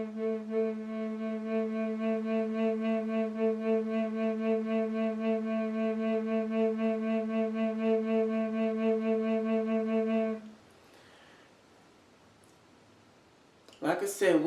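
A long, steady low tone from a Native American bass flute in A, tuned to 440 Hz, pulses gently with stomach-driven vibrato for about ten seconds, followed by a brief quiet pause and a short burst of voice at the end.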